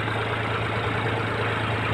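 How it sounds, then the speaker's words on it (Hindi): A tractor engine drones steadily while pulling a potato planting machine across a field in Gujarat, a loud continuous low rumble with no breaks, heard close. "ये मेरे पीछे ट्रैक्टर आ रहा है"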